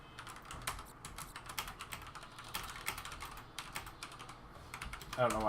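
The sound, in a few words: typing on a computer keyboard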